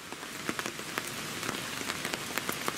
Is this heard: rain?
yes